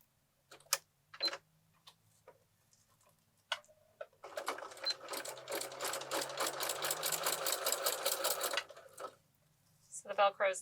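A sewing machine stitches a Velcro hook strip along the edge of an insulated reusable bag, a fast rapid-fire rattle of stitches lasting several seconds, framed by brief handling clicks and soft background noises.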